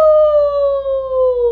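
A human voice imitates a coyote, letting out one long, loud, high wailing howl that holds steady and slowly slides downward in pitch before cutting off.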